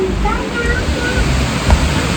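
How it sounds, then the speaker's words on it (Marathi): Heavy rain pours down outdoors in a dense, continuous roar that fills the whole stretch, loud and steady, while a voice is faintly present beneath it. "जोरात पाऊस चालू झालाय बाहेर"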